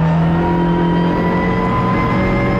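A tight pack of race cars, including a Mk6 Ford Fiesta EcoBoost, roars down the Donington straight toward the chicane. The engines drone loudly and steadily with no break.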